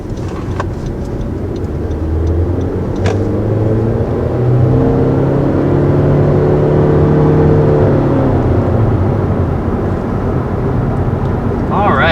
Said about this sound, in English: So first taking off here in the 2020 Honda Civic hatchback